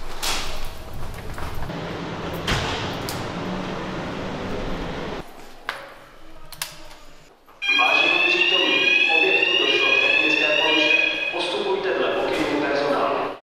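An electronic fire alarm sounds loudly and steadily with a harsh warbling tone during a fire drill at a care home, following stretches of noisy background activity and talk.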